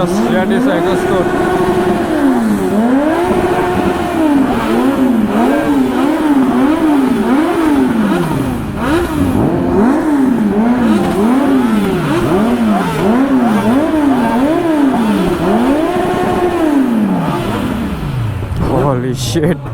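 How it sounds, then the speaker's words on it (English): Kawasaki Z900 superbikes fitted with a full-system aftermarket exhaust, revved hard and repeatedly on a group ride, the loud rising and falling engine roar continuing throughout with voices underneath. "Just hear this exhaust note."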